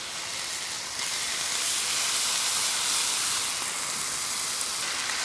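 Bacon sizzles on a Blackstone camp griddle beside hash browns, a steady bright hiss that swells slightly after the first second and holds evenly, close and unbroken with no talking.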